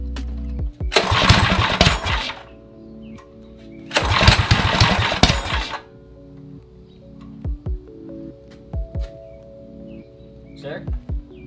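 A Predator 212 Ghost small gas engine cranks and fires up twice for the first time, two loud roaring bursts of a couple of seconds each, then falls quiet apart from scattered clicks and handling noises.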